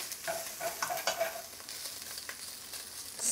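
Onions for spicy miso ramen with pork soften in a pot, a close, steady sizzle broken by occasional stirring scrapes and clinks.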